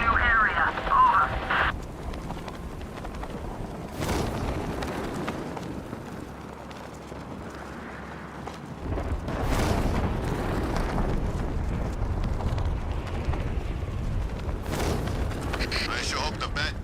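A deep, rumbling explosion in Batman: Arkham Knight rolls out over sustained loud game noise, with a heavy low roar, sharp bursts near the start and middle, and a voice speaking over part of it.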